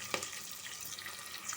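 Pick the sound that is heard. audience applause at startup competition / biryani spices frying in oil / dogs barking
biryani spices frying in oil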